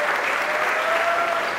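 Steady, dense applause from an audience at a basketball one-on-one event fills the whole moment, a loud continuous wash of clapping with no voices over it.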